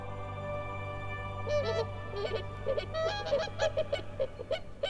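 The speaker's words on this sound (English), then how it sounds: "Cranes make their homes at the edge of the swamp and begin their noisy courtship displays in March." Cranes call repeatedly in a lively series of honking, trumpeting notes during spring courtship at a swamp edge in Matsalu National Park, moderately distant, over a low steady background hum.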